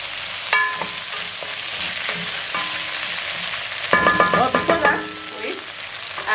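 Onions frying in a pot for beef pilau: a steady close sizzle throughout, joined midway by louder stirring scrapes and clatter against the pot.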